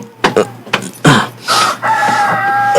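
Several chickens clucking and a rooster crowing at dawn, short bursts then a drawn-out crow, loud and close with no talking.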